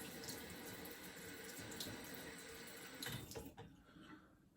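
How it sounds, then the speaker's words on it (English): Warm tap water runs steadily over a shaving razor blade in a sink, a soft continuous splashing stream at close range that thins and quiets near the end. "I like to wet my blade a little bit before I put it on my face, kind of warm up the blade"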